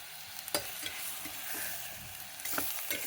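Mutton and okra curry with chili powder frying in a pan, a close continuous sizzle with a few sharp spoon scrapes and knocks as it is stirred.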